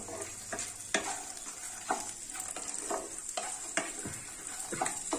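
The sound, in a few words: stirring dry fruit laddoo mixture in a pan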